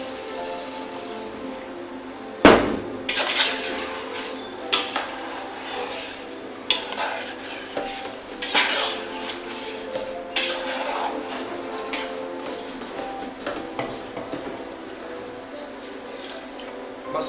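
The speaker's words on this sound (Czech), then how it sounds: "Podlijeme vývarem." Broth poured into a pot of beef goulash, with close clanks of a metal pot and utensils, splashing liquid and stirring in intermittent bursts throughout.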